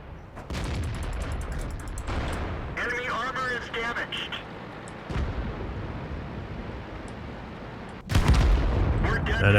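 Tank guns fire in World of Tanks: a few heavy booming shots land seconds apart, each cracking out of a constant low rumble, and the last blast is the loudest.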